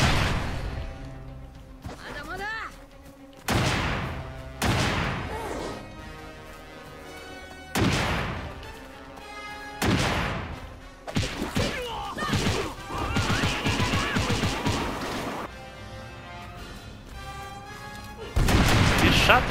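Loud gunshots in the video game One Piece World Seeker crack out in separate bursts, sharp single blasts spaced a few seconds apart, with faint talk in between.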